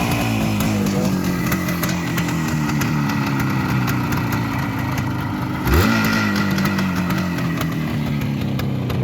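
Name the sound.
1974 Suzuki T500 Titan motorcycle engine revving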